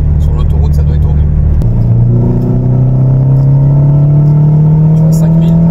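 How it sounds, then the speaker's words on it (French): Renault Clio 2 RS 172 with a twin-silencer exhaust drones steadily from inside the cabin, a loud low hum that rises slowly in pitch as the engine pulls, with a voice talking over it. "Mais même avec 2 silencieux ça bourdonne quand même pas mal."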